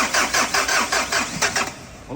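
A Ford Everest engine, just rebuilt after a top overhaul, cranks in a quick rhythmic series of about eight starter bursts that fail to catch, loud and close in a workshop, with no talk over it.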